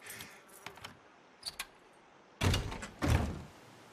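A locked door rattled and tried in the Days Gone video game, several sharp thunks and clacks spread over a few seconds, starting as light taps and ending in two heavier jolts, with no talking.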